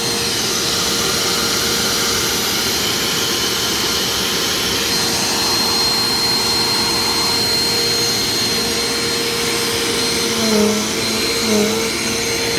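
A Mainstays vacuum cleaner runs steadily and loudly throughout while vacuuming a floor, a constant roaring whine with a slight pitch shift near the end.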